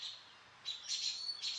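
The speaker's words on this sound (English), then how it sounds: "I think that is the robins yelling at a hawk in the tree right above me" American robins give alarm calls at a hawk perched in a tree overhead in a garden. The short, high chirps are faint and come in quick bursts, with no voices over them.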